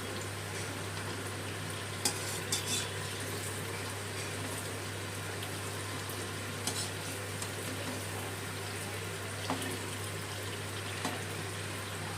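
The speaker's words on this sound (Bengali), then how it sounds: "বড়াগুলোকে উল্টে পাল্টে লাল করে ভেজে নেব" Palm fruit fritters (taler bora) deep-frying in hot oil, made as a Janmashtami treat, give a steady, close bubbling sizzle with a few faint clicks and no voices.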